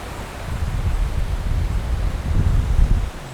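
Steady outdoor wind rushes and buffets the microphone with low rumbling gusts and a soft rustle, continuous and fairly loud, with no voices.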